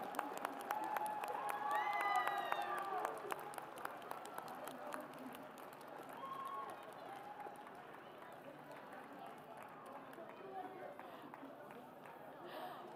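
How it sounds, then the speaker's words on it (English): An audience at a robotics competition award ceremony in New York City applauds, a sustained spread of clapping heard from a distance, with a voice speaking over it early on and scattered claps trailing off. "How about another round of applause for our 2014 first New York City Regional Chairman's Award winner, Team 353."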